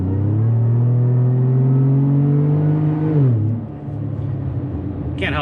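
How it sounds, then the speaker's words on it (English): A supercharged 3.6L Chevrolet Colorado ZR2 Bison pulls hard from inside the cab, a rising engine note with a faint blower whine climbing steadily, then easing off as it shifts and settles. "The blower whine, what little bit you get through feedback inside, is still exhilarating."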